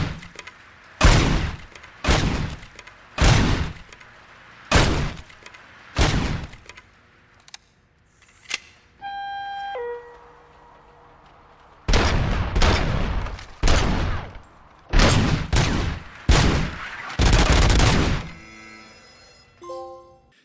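Gunfire at the shooting range in Robocop Rogue City: a series of loud, close single shots in steady rhythm, a pause broken by electronic target chimes, then another run of rapid shots ending in a tonal beep sequence.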